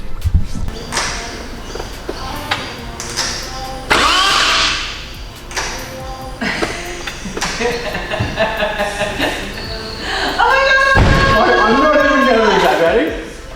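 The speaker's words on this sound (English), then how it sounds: "That even sounded like a beastly crank." A Nissan GTR with an RB28 engine cranks over on its first start, with several loud starter bursts and a longer churning crank toward the end, mixed with people talking nearby.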